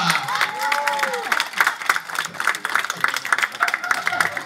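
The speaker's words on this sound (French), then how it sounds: "Je vous demande un tonnerre d'applaudissements pour notre magicien, Sacha Franca." An audience applauds a magician, clapping and cheering in a dense, sustained burst, with whistles rising over the crowd.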